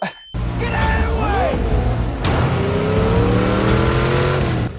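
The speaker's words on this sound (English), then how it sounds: "It's like a real car, right? Muscle car, yeah." A muscle car engine from The Batman film revs hard and roars with accelerating sweeps, tire squeal and a second loud burst of throttle, loud and close, with voices partly over it.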